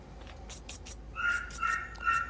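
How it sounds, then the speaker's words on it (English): A dog whines in high, thin drawn-out tones, several whimpers in a row, alongside scattered clicks and taps in a quiet room, during hand forging of a knife. "I know you folks can hear my dog in the background."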